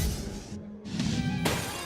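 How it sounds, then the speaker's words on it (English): A pint glass slides off a bar shelf in a Lincolnshire pub and shatters, a loud, bright crash with scattering shards and a short gap, then further tinkling debris, with no voices. "a pint glass slides off the shelf and shatters"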